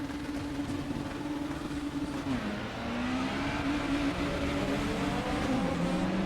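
A Super Touring race car at Monza in the RaceRoom racing game spins its wheels, the engine droning steadily and loud while its pitch wavers and climbs.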